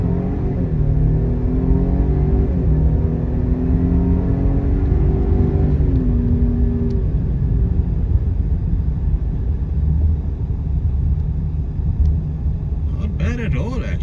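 A 2025 Lincoln Aviator with all-wheel drive and a 10-speed automatic pulls hard from a standstill toward 100, its engine note climbing through gear changes and then settling into a sustained loud road roar.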